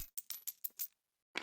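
Small dice clatter across a table for a tabletop game's initiative roll, a quick run of about six light rattling clicks, then a pause and one final tap, close and quiet.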